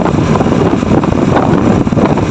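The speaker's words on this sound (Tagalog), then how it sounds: "buti lang hindi umulan hangin lang talaga" Strong wind blowing outdoors after a dry night with no rain, near a patola (sponge gourd) garden, roaring steadily against the microphone as a loud, continuous rumbling gust with no voices.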